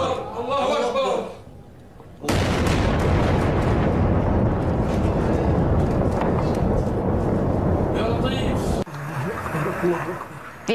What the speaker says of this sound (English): The explosions rocked a suburb of the capital, Damascus, overnight.